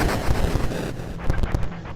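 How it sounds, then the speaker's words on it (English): Gunfire in a horror audio drama set amid shrieking creatures, heard as a dense, loud barrage of bursts over rumbling noise, with sharper reports clustering toward the end. "Lee tries to make himself heard over the gunfire and shrieks of the creatures."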